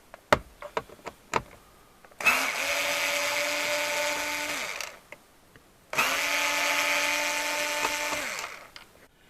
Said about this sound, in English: next you want to remove these 4 T25 Torx bolts.